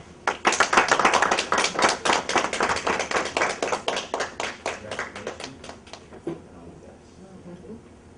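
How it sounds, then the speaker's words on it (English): An audience at a UN General Assembly forum claps for an honoree, a strong burst of applause that holds for several seconds, then thins into scattered claps and fades out near the end. "Please, can you clap for her?"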